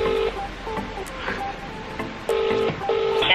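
Touch-tone telephone dialing, several clear steady tones of varying length at an irregular pace, fairly loud over faint background noise, no talking.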